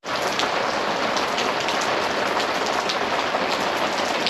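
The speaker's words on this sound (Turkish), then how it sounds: "böyle yağmur yağıyor ve göz gözü görmüyor" Heavy rain pours steadily during a winter storm in Madrid, a dense, loud, unbroken hiss of falling water with no voices heard.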